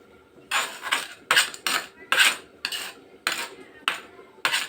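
Toy kitchen utensils clatter and clink in a string of about eight quick, irregular strikes as a child pretends to cut meat in a play kitchen, close up with no talking.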